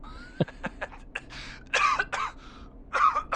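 A character in the video game Killer Frequency coughs and clears the throat in several short, close bursts, followed by rougher, breathy hacking near the end.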